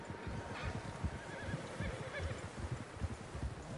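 Horses neigh and whinny in a video game, faint high calls surfacing briefly over a low, busy bed of hooves and ambient game sound.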